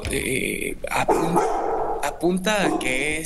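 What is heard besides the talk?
dog barking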